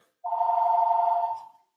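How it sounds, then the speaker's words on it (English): A phone rings once in a kitchen during a live baking session for a French almond flourless cake, a single sustained electronic tone lasting just over a second, fairly loud and close, with no voices. "Yes, and the phone is ringing."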